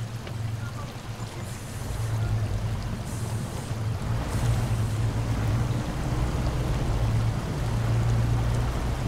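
A truck in four-wheel drive wades through deep water in Dinosaur Fossil Hunter, a steady low engine rumble under rushing, splashing water that grows slightly louder as it pushes through, with brief talk early on.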